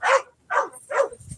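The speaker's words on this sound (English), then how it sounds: "Seamus, you're not coming back in this RV with that dog." A dog barks three times in quick succession, loud and close, beside an RV, with a short pause between each bark.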